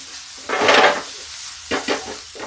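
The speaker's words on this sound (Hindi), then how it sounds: "बस इसी को हम ऐसे फ्राई कर लेंगे" Chopped mixed vegetables seasoned with chaat masala fry in a pan, giving short bursts of sizzling and scraping as they are stirred, one longer burst followed by a few quicker strokes.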